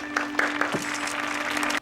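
Applause and cheering for Clarice Starling at her graduation in a film, a short burst of clapping with a sustained tone beneath, heard briefly at moderate loudness.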